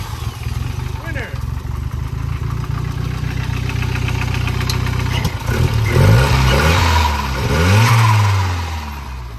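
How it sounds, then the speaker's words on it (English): Volvo 240 Turbo Wagon engine idling then revving with turbo whooshes and flutter, a close rumbling drone with rising bursts, while people talk over it. "All those squishy turbo noises"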